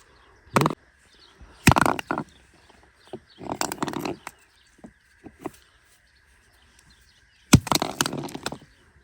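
Hard fruit struck with a stone outdoors, several sharp, loud cracking knocks at uneven intervals, with quieter taps between and a faint steady background tone.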